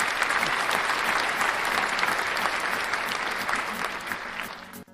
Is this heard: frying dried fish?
no